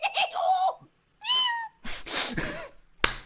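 A cat meows several times in a skit, with drawn-out, pitch-bending cries separated by short pauses and a noisier, rougher call toward the end.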